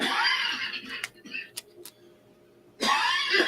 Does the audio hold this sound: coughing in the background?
yes